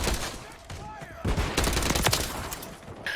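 Gunfire in Call of Duty: Modern Warfare III, with a cluster of sharp close shots and rattling bursts over background game noise, and a voice talking at times.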